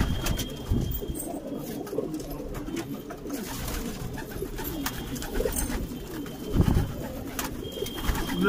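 Pigeons coo softly at a loft, with low murmuring calls and occasional wing flutters among general background noise.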